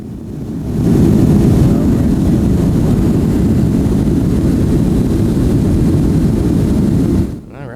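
Steady loud roar of an airliner cabin during a Delta flight, a dense low rumble holding constant for several seconds before dropping away, with no talking.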